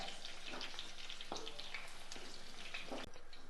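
Onion and tomato sauté in hot oil, the same oil just used for eggplant, with a continuous soft sizzle broken by a few sharper crackles and light stirring taps, no one speaking.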